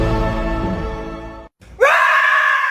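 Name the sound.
person imitating a dinosaur roar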